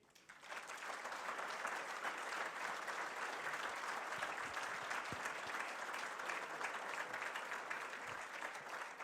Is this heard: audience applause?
yes